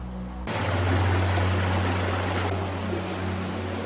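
Underground river rushing through a vast cave canyon 200 metres below ground, a steady, loud broadband roar of flowing water that swells in after a brief quiet opening and continues unbroken.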